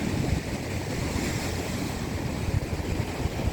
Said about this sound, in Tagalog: Kaso nga lang, sobrang lalaki ng alon.